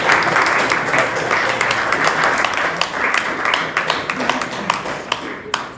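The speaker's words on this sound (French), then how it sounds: "Je vous demanderai un tonnerre d'applaudissements pour notre chancelier" Audience applause at a ceremony at the Lausanne Palace, dense steady clapping from a crowd filling the room for about six seconds, tapering slightly toward the end with a few scattered louder claps and faint voices underneath.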